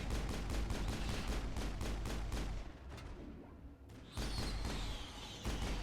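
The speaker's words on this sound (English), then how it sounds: "Just gonna keep shooting." Rapid bursts of gunfire from the video game Mass Effect crack out in quick repeated shots, pause briefly, then resume loud and close, with no talking.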